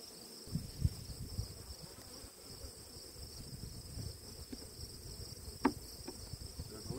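Honey bees hum around an opened hive during a honey pull, a steady close drone with a few louder buzzing passes and no talking.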